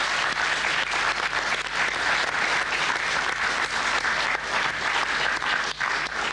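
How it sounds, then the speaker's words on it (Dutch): Audience applause after a classroom quiz contest between two school classes: dense, loud, steady clapping that runs unbroken for several seconds with no talk over it. "Een sportief applaus."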